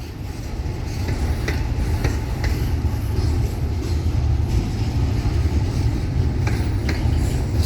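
A Florida East Coast Railway freight train with locomotives rolls past, giving a steady loud rumble and a rolling roar with faint periodic wheel clicks throughout and no voices.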